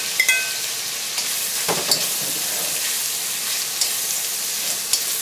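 Pork stir-fried with bell pepper and chilies in a hot pan, a constant sizzle with scattered scraping clicks of the spatula stirring, close and steady with no talk.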